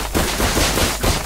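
Shotgun fire in the game Valorant booms in close, heavy blasts, about three shots in quick succession with loud reverberant tails, no voices over them.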